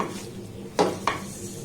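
Sabudana and sugar being stirred in a pan over a low flame: a soft scraping bed punctuated by two sharp clinks of a spoon against the pan, close and fairly quiet.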